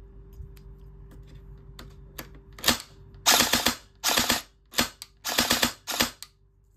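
Airsoft gun test-fired after restoration, a handful of sharp cracking shots, some single and some in quick bursts, close and loud with a faint mechanical whir between.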